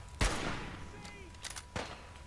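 Sniper rifle shots in Fallout 4, a sharp loud crack followed by a decaying tail, then a second softer report about one and a half seconds later, with faint game sounds between.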